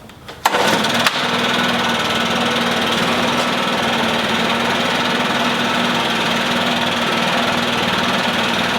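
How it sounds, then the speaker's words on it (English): Gas-powered leaf blowers pulled into life outdoors: a sharp start, then a loud, steady, droning engine roar that holds constant at close range. "now we're gonna start up these blowers and get everything running through the lines"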